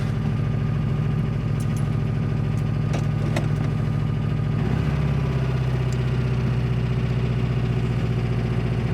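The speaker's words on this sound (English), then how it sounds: "Engine sounds really good." A Porsche 356 engine idles steadily close by, a low continuous rumble that shifts slightly in pitch midway, with faint clicks and knocks over it.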